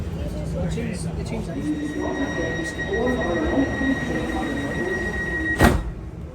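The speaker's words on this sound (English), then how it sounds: "Time to go on the Glasgow Subway for the very first time." A Glasgow Subway train rumbles along with a steady roar and faint high squeals, a sharp clatter near the end; indistinct voices murmur underneath.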